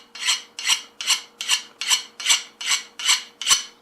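A file rasping across a forged knife blade still coated in forge scale: nine even, rhythmic strokes, gritty and biting, close and loud with short pauses between.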